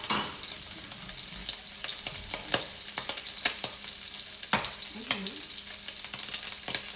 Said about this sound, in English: So we want shrimp to cook first